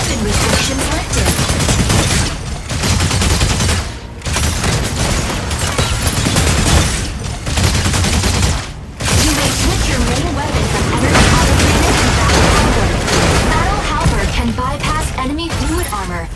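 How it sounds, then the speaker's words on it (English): An energy autocannon firing in the mecha game Mecha Break, a dense, loud, continuous barrage of rapid blasts and impacts that barely pauses, with game voice lines mixed in. "Energy autocannon inflicts energy damage."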